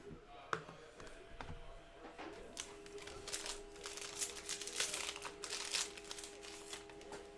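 A 2019-20 Chronicles NBA basketball card pack is torn open, with sharp crinkling and ripping of the wrapper building into a busy burst of close foil crackle under a steady background hum.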